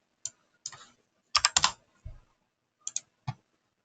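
Close typing on a computer keyboard, with short bursts of crisp key clicks separated by silent pauses and a few isolated taps.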